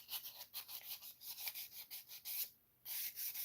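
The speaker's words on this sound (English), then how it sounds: "I mean, you can see that I'm scuffing it up a little bit." A surface in a garage is scuffed by hand with a sanding pad before painting, producing a quiet, rhythmic back-and-forth rubbing of repeated short strokes, with one brief pause partway through and no talk over it.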